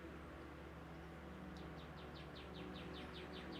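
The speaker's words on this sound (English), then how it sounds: "You hear, that was a bird." Small birds chirp faintly outdoors in a quick repeated series of high tweets, distant and soft, over a low steady background hum.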